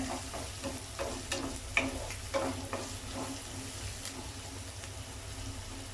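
Chopped onions sautéing in a pan, a soft steady sizzle broken by repeated close scraping strokes of a spatula at irregular intervals, fairly quiet and without speech.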